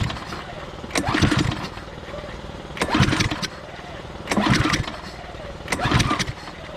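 A Club Cadet lawnmower engine being started with repeated pull attempts: four separate bursts of cranking, about a second each and evenly spaced, that never catch into a running engine, heard close up.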